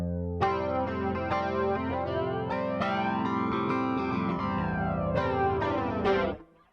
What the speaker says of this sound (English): I'm running through a JHS Whitey Tighty compressor, a JHS Colour Box V2, a Boss flanger, and a Strymon reverb.